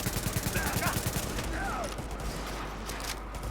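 Rapid gunfire in The Division video game, dense bursts of automatic shots crackling continuously, with voices shouting now and then.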